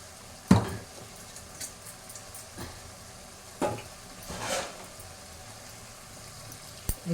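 A spoon stirs pepper powder into prawn curry frying in a pan, giving a few sharp scraping clatters over a faint, quiet sizzle.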